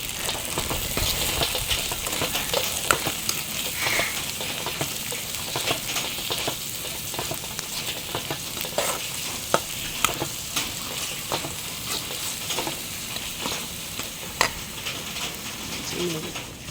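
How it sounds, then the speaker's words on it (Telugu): Palm fruit pulp curry being stirred in a pan after salt and chilli go in, with a steady low sizzle under repeated scraping and clinking of the spoon against the pan, close and continuous. "రుచికి సరిపడినంత సాల్ట్ వేసుకుంది అలాగే కారం వేసుకుని మిక్స్ చేసుకుంటాం"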